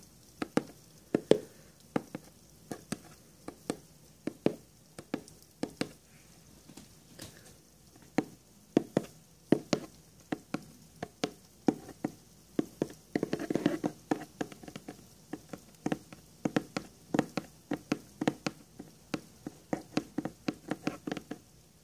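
Fingers tap steadily on hard objects, light irregular knocks and patters close up, sometimes in quick clusters, with no talking.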